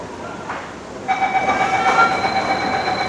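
An underground Mumbai metro train at Santacruz station rumbles steadily. A tonal whine and a higher hum rise about a second in and hold as the train moves. The sound is fairly loud and close, with no speech.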